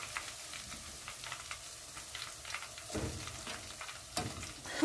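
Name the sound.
oyster mushrooms frying in pan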